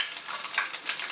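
Onion pieces hitting hot oil on a tawa for a quick veg pizza topping, giving a steady soft sizzle with crackly bursts, close and alone.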